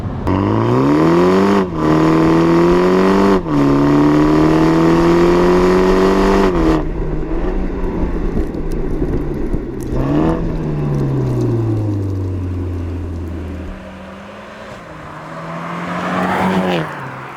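A modified 258 hp BMW Z4 G29 engine revs up and holds high, drops, then revs again before settling into a lower rumble that rises once more near the end; no voices.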